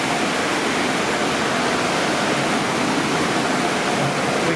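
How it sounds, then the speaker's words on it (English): Pressure-washer water sprays steadily onto the rear of a car at a car wash in Robinson, Texas, a loud, even broadband hiss heard up close with no talking. "Lightly soak the rear end. Just a little water here."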